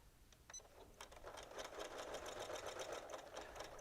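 A Janome sewing machine with a standard needle stitches through a leather belt, a fast steady mechanical whirr with rapid needle clatter that starts up and holds a close, even hum.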